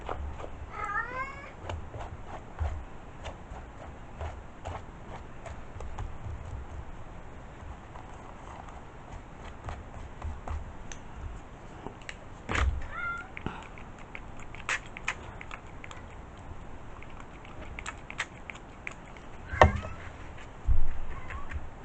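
A cat meows now and then in short, fairly faint calls over a constant soft background noise, with a few sharper bursts near the end.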